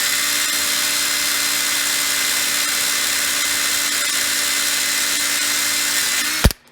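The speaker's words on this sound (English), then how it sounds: "Thinking about just drilling it out of there" An electric drill whines steadily at high speed while boring out a part of a Bernzomatic TS8000 torch, holding one even tone before breaking through with a brief pop and stopping abruptly.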